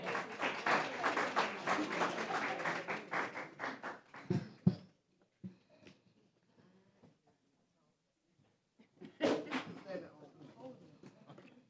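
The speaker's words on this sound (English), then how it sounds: "Let's give them another round of applause." Audience applause for students at a school board meeting, a dense burst of many hands clapping that fades out around four seconds, followed by near silence with scattered small noises and a brief second flurry of claps.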